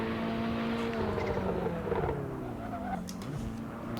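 A car in a racing video game brakes hard with ABS, its engine note dropping and sliding down in pitch over a steady droning background, with faint tire noise toward the end.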